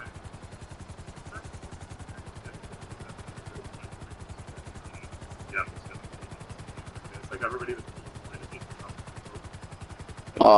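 A helicopter in the video game GTA 5 produces a steady, fast rotor chop that runs through the whole stretch, with a few faint louder bumps and a sharp burst right at the end.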